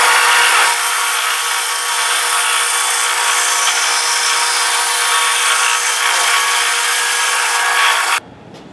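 A hand saw rasps steadily through an oversized wooden wedge for a shoulder plane, with even, continuous strokes close by for about eight seconds before stopping abruptly.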